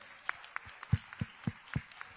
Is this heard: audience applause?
yes